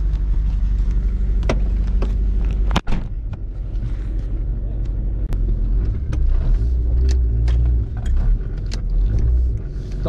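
A Fiat Palio drives off, its engine rumbling low and close with a sharp thump early on and light knocks over the steady drone.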